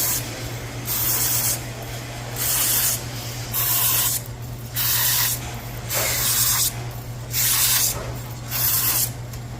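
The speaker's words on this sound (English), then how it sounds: "Now I'm going to brush them with the nylon guide brush." A nylon guide brush scrubbing the valve guides of a Pontiac cylinder head, heard as loud, close bursts of brushing hiss, about six strokes in a steady rhythm with brief pauses between them, over a constant low hum.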